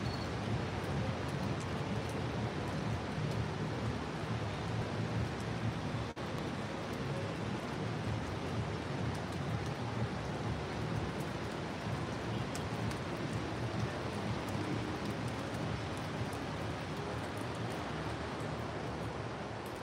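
A rainstorm heard from a 38th-floor high-rise window above the city, a steady dense wash of rain and wind noise running continuously for about twenty seconds, no talking.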